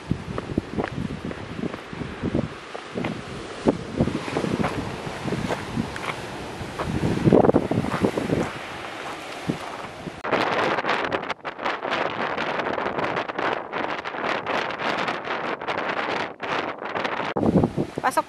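Powerful waves surge and crash at Thunder Cave on Cape D'Aguilar, Hong Kong, a continuous loud roar heavy with wind buffeting the microphone, while a person talks briefly over it.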